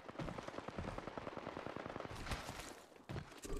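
Rapid bursts of automatic gunfire from a multiplayer shooter game, loud and close, with dense repeated shots that cluster into rattling volleys and continue almost without a break.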